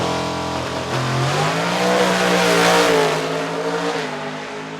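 A Pro Stock drag car, a 2018 Camaro, makes a run in the PlayNHRA racing game: a loud engine whine climbs in pitch through the gears, fairly near, with a slight fade at the end and no voices.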